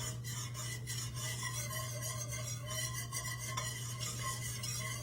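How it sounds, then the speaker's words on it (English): A whisk scrapes and stirs a roux in a pan for potato soup, giving a continuous rasping, rhythmic rubbing over a steady low hum, fairly quiet and without voices. "I'm just gonna whisk until this is smooth, and this will help to thicken our soup"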